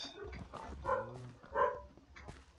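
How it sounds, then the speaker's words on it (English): A pet dog indoors gives two short, muffled barks or yelps a moment apart, faint and in the background with no talk over them. "And my dog is barking once again."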